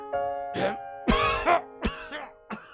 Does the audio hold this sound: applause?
no